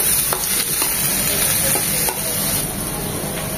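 Onions sprinkled with salt fry in a pan for a salted hilsa fish dopiaza, giving a close, steady sizzle broken by a few brief stirring scrapes.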